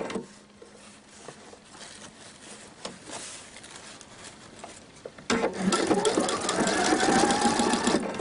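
Sewing machine stitching a decorative ribbon seam, running alone and stopping by itself, with quiet handling before a loud, steady mechanical whir starts midway and continues to the end.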